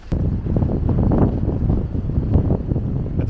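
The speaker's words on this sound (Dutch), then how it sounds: "Het waait lekker." Gusty wind on a farm buffets the microphone in strong, uneven surges, a loud rumbling roar that rises and falls continuously for a few seconds with no voices.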